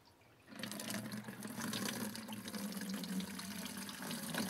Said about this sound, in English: I'm purposely pouring it out the hole where the valve is